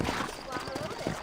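Horses in the Red Dead Redemption video game, hooves clip-clopping in a quick, close rhythm under a voice talking throughout.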